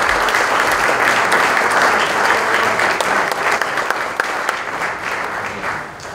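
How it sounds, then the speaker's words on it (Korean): Sustained, warm applause from a church mission society's general assembly audience, dense and steady clapping that swells and continues for several seconds before easing slightly toward the end. "우리 한번 뜨겁게 한번 격려 박수 한번 하고"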